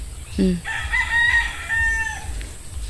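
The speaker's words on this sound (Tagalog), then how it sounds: "Dami nilang manok, tsaka bibi." A rooster crows loudly with a long drawn-out call, while chickens cluck briefly just before it over faint background noise.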